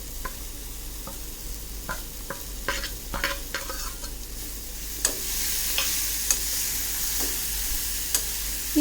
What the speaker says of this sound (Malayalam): വഴറ്റി കഴിഞ്ഞ് ഒരു തക്കാളി മുറിച്ചതായിരിക്കും ഇടുകയാണ്.